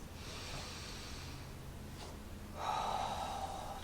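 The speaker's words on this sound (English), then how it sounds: "Deep breaths." Slow, deep breaths during a lower back stretch, a soft airy exhale followed by a fuller, louder breath, close and quiet with no talk.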